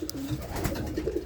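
Breeding pairs of roller pigeons coo softly and steadily in a loft, a close, low rolling murmur of several birds with no talk.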